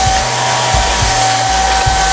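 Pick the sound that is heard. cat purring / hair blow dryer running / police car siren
hair blow dryer running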